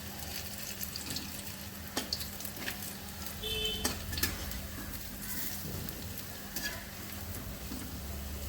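Coriander leaf pakoras fry in hot oil with a quiet, continuous sizzle, broken by occasional clicks and stirring taps.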